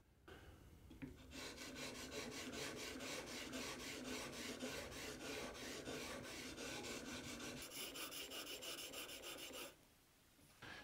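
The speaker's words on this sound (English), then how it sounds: "I'm going to pull the chisel back slightly in the jig, and that changes the angle where it contacts the stone" A steel chisel held in a honing jig scrapes steadily back and forth across a sharpening stone, a close, continuous gritty rasp lasting about eight seconds before stopping, with no talking.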